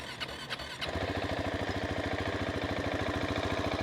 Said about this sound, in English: from the sound, it feels like it has a valve issue, the motorcycle